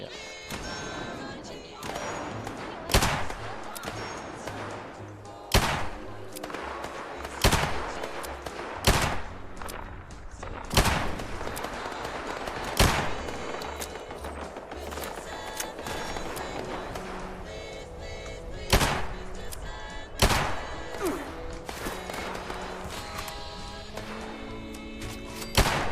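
Gunfire in Fallout 76, sharp individual shots and short bursts spaced irregularly across the scene, moderately loud against a busy game background, with players talking in between.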